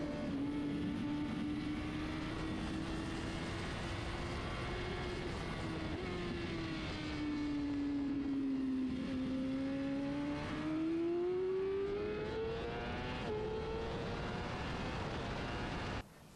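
Motorcycle on a race track at a track day, engine pitch rising and falling as the rider brakes hard into a corner and trails off the front brake, a loud, close, continuous whine with wind rush, no talk.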